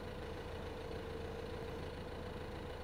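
A small tractor in Farming Simulator 2015 idles steadily with a low, even engine drone and a faint mid-pitched hum, continuous and unchanging at moderate distance with no talk.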